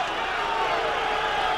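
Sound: boxing crowd reacting with displeasure at a stoppage

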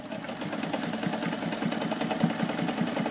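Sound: American Home sewing machine stitching a zigzag seam

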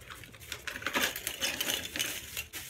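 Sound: Christmas ornaments dumped into a plastic bag

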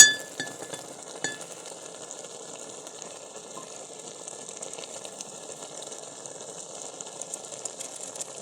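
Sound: saag (radish leaf greens) simmering and being stirred in pot

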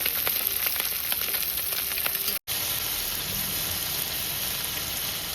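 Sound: pabda fish frying in hot oil

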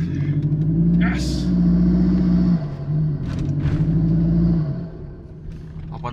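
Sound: car engine revving with open air filter

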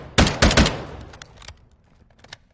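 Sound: gun firing in the video game Fortnite

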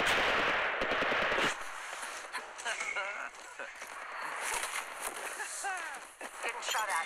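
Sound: gunfire in the video game Apex Legends Mobile

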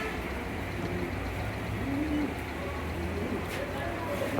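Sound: pigeons cooing

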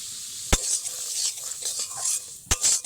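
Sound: semolina roasting in white oil while stirred

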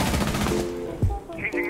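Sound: SMG-11 gunfire in a video game

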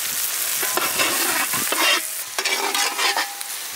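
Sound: tomatoes frying and stirred in a pan for fish curry

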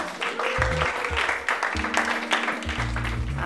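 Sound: applause for brewing club members

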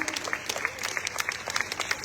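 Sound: audience applause welcoming a candidate

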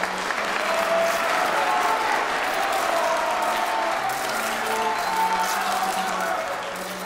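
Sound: audience applause welcoming supermodel at fashion show

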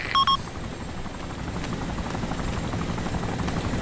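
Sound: helicopter in video game Arma Operation Arrowhead

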